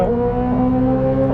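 A 2023 Corvette Z06 on track at full throttle, its engine giving a steady, close, loud mechanical drone over the short stretch with no speech.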